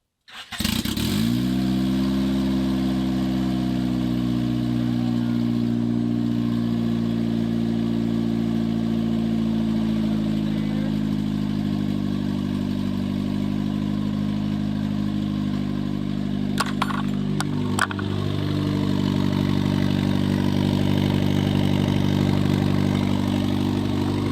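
A budget turbocharged car engine cranks and fires for the first time on a jump start, then settles into a steady, loud, rumbling idle that holds for over twenty seconds, with a few faint clicks and no talking.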